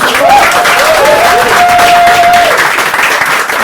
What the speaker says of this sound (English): give another round of applause to James for his wonderful reading